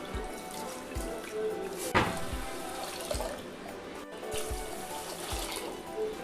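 Rice is washed by hand in a vessel of water for neer dosa batter, with close sloshing and swishing, water splashing and a few soft knocks against the container, and no one talking.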